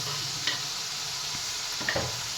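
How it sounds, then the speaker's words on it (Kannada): Chopped green chillies dropped into a hot pan while making a bachelor-style egg curry, giving a steady soft sizzle with a couple of light stirring scrapes, close and fairly quiet. "ಕಟ್ ಮಾಡಿರೋ ಮೆಣಸಿನ್ಕಾಯಿ ಹಾಕತ್ತಿದ್ದೀವಿ ಗೈಸ್."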